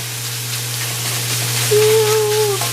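Chicken fried rice made with basmati rice sizzles in a pan as a soft, continuous crackle over a low steady hum, with a brief thin whistle toward the end.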